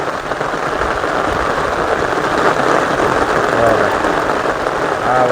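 Heavy monsoon rain drums behind a house in a Gujarat village, a loud continuous patter with brief voices and a few thin tonal sounds near the end.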